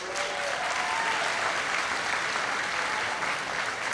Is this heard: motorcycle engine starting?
no